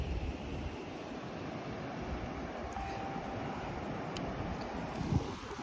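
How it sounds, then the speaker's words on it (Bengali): Sea waves at a quiet Talsari Udaypur beach in Odisha make a continuous, soft, distant wash of surf with a steady low rumble and no voices. "আর এই দেখো সমুদ্র"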